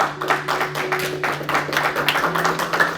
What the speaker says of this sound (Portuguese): Então dá salva de palmas para Jesus